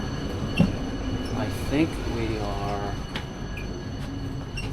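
A first-class train in China rolls along with a steady rumble, a few clicks and a brief squeal of wheels, while someone speaks briefly near the start.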